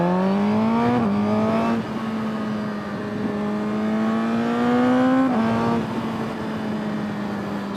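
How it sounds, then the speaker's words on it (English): A 2022 Suzuki GSXR 1000R sportbike revs hard at high RPM in second gear, a loud, close engine whine climbing in pitch, briefly dropping at shifts or throttle lifts, then rising again. "Second gear in high RPM sounds amazing and it feels really good."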